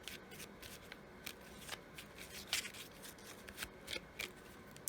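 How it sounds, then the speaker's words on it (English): Oracle cards being handled while a fortune cookie card is drawn from the deck, a run of quiet, crisp papery flicks and slides in irregular rhythm, close and faint with no talking. "we're going to draw a fortune cookie card"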